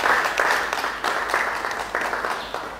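Wedding guests at a civil and religious ceremony break into steady applause, a hall full of clapping that rises in waves and slowly fades, with no talk over it.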